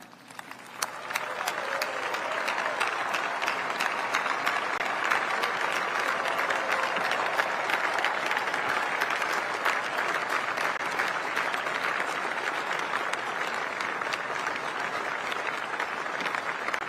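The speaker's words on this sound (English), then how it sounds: "join me in another round of applause for the outstanding" Audience at the B-21 Raider bomber unveiling ceremony applauds steadily and loudly, a dense sustained wash of clapping that begins about a second in and carries on unbroken for the whole span.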